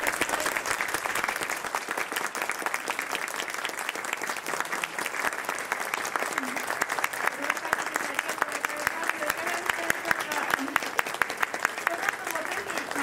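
Steady, dense applause from an audience after an ANA band's Christmas stage performance at Haneda Airport, sustained and even throughout with crowd clapping filling the space.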